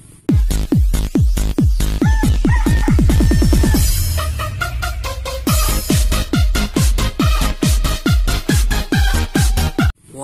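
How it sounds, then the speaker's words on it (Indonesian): Toy chicken giving out a fast run of repeated electronic clucking chirps, loud and close, with a brief buzzy stretch in the middle before the chirping resumes. "Wow, ternyata ini mainan ayam."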